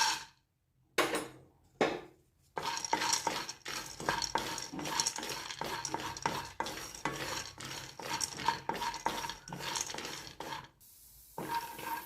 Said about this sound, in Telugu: ఇప్పుడు కొంచెం ఆయిల్ వేసి పల్లీలు వేయించుకుందాం.